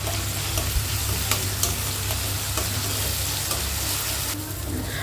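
Onions and garlic sauté in a pan with a little salt for kara kulambu, giving a steady soft sizzle for several seconds, with occasional light stirring taps.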